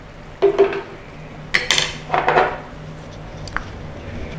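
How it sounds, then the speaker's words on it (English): In a pan, a spoon makes a few clinks and soft scrapes while it stirs a creamy mustard sauce with chopped parsley for pork loin steak, with a faint simmer beneath and no voices. "give that a stir in, and then just let it simmer away, thicken up"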